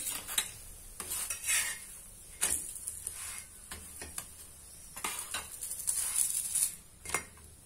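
A vegetable-stuffed paratha made from mixed oats, ragi and jowar flour roasts on a pan with a little oil, with soft sizzling and repeated close scrapes and clinks of a metal spatula.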